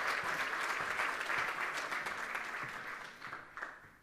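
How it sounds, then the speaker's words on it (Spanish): Applause from an audience welcoming a guest at a panel discussion on responsible energy transition, steady dense clapping that thins out toward the end. "te brindamos un aplauso también."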